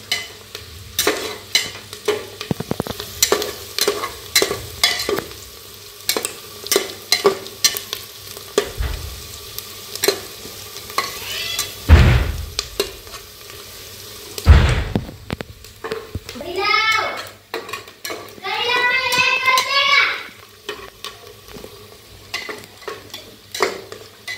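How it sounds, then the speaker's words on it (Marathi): Onions for biryani fry in a pan while being stirred, with repeated scraping clinks and a low sizzle, interrupted by a few louder knocks and a voice chattering nearby. "थोडा वेळ लाल होऊस तर असं जरा हलवत राहायचं म्हणजे सगळा कांदा एकसारखा भाजतो."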